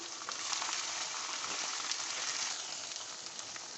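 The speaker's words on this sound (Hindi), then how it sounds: "नमक, लाल मिर्च और ये हल्दी, ये डाल के तो इसको अच्छी तरह से हम भूनेंगे" Garlic, ginger, salt, red chili and turmeric fry in a pan for a dhaba-style daal maash, giving a steady, close, even sizzle with no talking.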